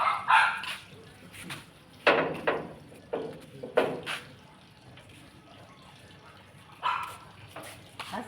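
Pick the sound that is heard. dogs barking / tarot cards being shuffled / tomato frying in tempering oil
dogs barking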